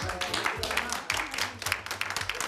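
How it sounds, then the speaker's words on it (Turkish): Studio audience applauding on a Turkish television talk show, a brief, fairly thin patter of clapping that stays moderate in loudness for a couple of seconds. "Çok cılız alkışladınız ya"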